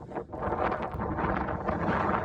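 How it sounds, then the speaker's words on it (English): Strong wind buffets the microphone on a mountain trail near Saddleback Peak on Mt Lemmon, a close, rumbling roar with gusty surges throughout and no clear speech. "Still windy as usual."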